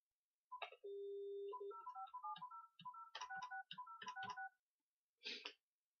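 A landline phone dials NHK Fureai Center: a steady dial tone, then a quick run of distinct keypad beeps in irregular bursts, a brief pause, and one last short tone, clear and close.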